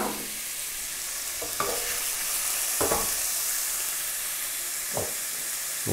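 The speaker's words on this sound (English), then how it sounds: "you can just monitor the onions while they're being sauteed." Onions sautéing in a pan for a chicken curry give a steady close sizzle, with a few sharp scrapes of a stirring utensil scattered through it and no talking.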